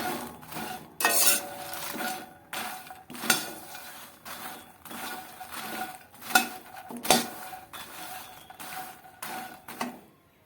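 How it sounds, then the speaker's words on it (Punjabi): Fox nuts (makhana) dry-roasting in a pan for panjiri, stirred with a utensil that scrapes and clinks against the metal in irregular bursts, with light rattling between strokes and no voices. "ਇਹ ਦੇਖੋ ਹੁਣ ਆਪਾਂ ਫੁੱਲ ਮਖਾਣੇ ਭੁੰਨਾਂਗੇ"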